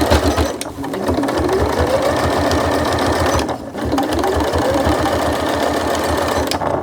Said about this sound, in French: je vais d'abord faire un carré et je repasserai au milieu en faisant une forme de croix pour solidifier la couture